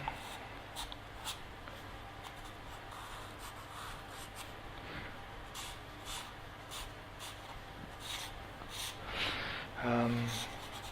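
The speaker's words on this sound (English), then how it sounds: "let me just draw this in." Pencil sketching an arm and rib cage on paper, a soft continuous scratching and rubbing of strokes, close and quiet, with a louder burst of rubbing near the end and no talk over it.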